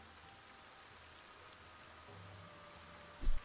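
Rain falls in the video game Arcania: Gothic 4, a soft, steady hiss of drops heard faintly, ending with a brief louder thump.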